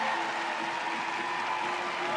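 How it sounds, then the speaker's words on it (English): A dense, steady roar of applause fills an arena after a men's short program at the ISU World Figure Skating Championships in Boston, the continuous clapping of a large crowd heard from a distance. "Everybody on their feet, applauding just a brilliant performance from this master of his"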